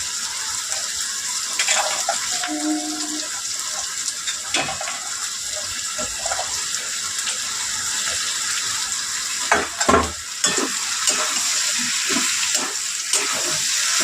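Onion, potato and green chillies fry in mustard oil in a pan with a low sizzle, broken by stirring scrapes and a few louder clatters of utensils near the end.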